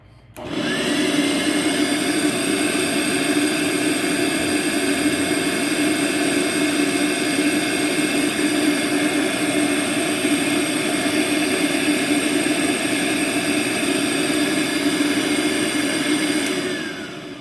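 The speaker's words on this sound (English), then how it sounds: "So we're just going to run the main motor." A Vorwerk VK120 vacuum cleaner runs its main motor with no nozzle attached, a loud, constant high-pitched whine with steady tonal overtones that starts abruptly and holds for the whole stretch before tailing off at the end.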